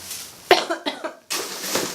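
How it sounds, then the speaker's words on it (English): A person coughs several times up close, a sharp burst followed by a few quick rough coughs, then a breathy exhale. "I've had a cough for the last week, so I'm not coughing because of the tree."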